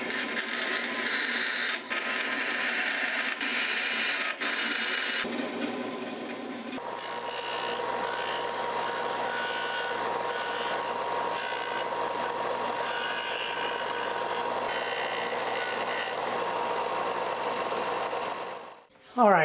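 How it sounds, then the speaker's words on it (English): A disc sander shapes a plexiglass tail for a handmade fishing lure, giving a steady, loud abrasive whir that shifts in tone partway through as the piece is pressed against the disc. "So it's just a matter of cutting off the big stuff and then shaping the rest with the disc sander."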